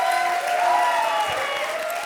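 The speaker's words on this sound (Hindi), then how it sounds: "जोरदार तालियां" Loud, dense audience applause on a Hindi TV comedy show stage, a steady wash of clapping with musical tones running underneath throughout.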